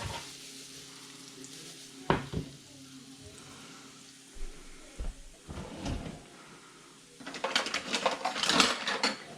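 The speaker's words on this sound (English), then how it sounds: "So now we have put some onions on that, and that is cooking." Onions frying in a pan in a home kitchen give off a soft, steady sizzle, broken by clattering knocks and bangs of cookware, with the sizzle swelling louder and brighter near the end.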